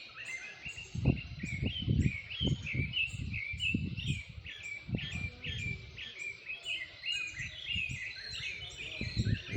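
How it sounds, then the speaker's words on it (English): Birds singing at dawn in nearby trees, with repeated bright chirps and warbles over several thumping, rustling knocks close to the microphone. "Listen to the birds. From the trees nearby."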